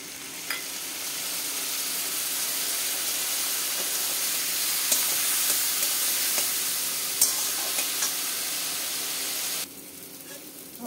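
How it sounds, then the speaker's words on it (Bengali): Chili, turmeric, cumin and coriander powder paste frying with a splash of water for a fish curry, a hissing, steamy sizzle with light stirring taps that abruptly drops near the end. "একটু জল দিয়ে কষাবো মশলাটা"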